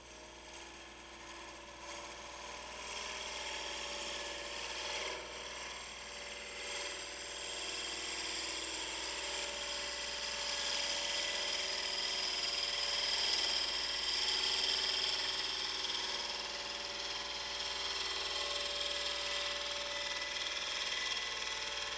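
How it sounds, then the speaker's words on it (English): A wood lathe turns a bowl while a gouge cuts in to reduce an oversized tenon, giving a steady, continuous scraping whir with a faint ratcheting texture at moderate level throughout. "let's bring in the gouge and cut that in a little smaller"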